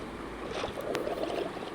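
A boat ride on water, a steady low rumble of motion on the water with wind noise and a soft splash, faint and continuous, without clear talk.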